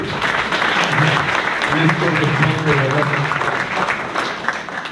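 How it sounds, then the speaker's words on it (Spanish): Audience applause at a spiritual teaching session on universal principles; sustained clapping from a small group, fairly near, with people talking over it. "aplauso para ustedes"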